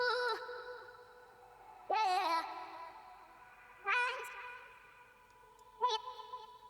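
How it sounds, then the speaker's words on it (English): A vocal chop sample from Splice in a beat: four sung, pitched vocal hits with reverb tails, spaced about two seconds apart, each starting sharply and fading, with no talking over them. "the last element here was a vocal chop from Splice."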